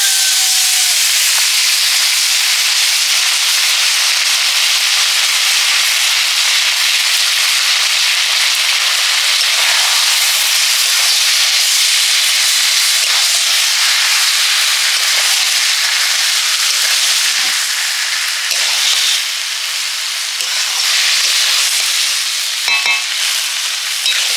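Taro leaves sizzle in a hot pan, a dense, loud, continuous frying hiss with occasional stirring scrapes, close and unbroken throughout.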